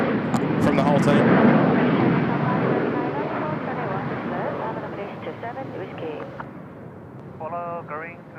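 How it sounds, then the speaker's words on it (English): A Jin Air Boeing 737 landing on runway 16 right at Seoul Incheon Airport, its broad engine roar loud at first and slowly fading, with a person talking over it and radio chatter near the end. "Little Jin Air 737 just dropping it in here on runway 16 right"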